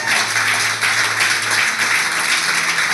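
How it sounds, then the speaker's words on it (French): A church congregation applauds for the Lord during a Sunday service, a dense, steady wash of clapping with a faint cheering undertone and a low tone beneath that drops away partway through. "Acclamons tous pour le Seigneur pour cela."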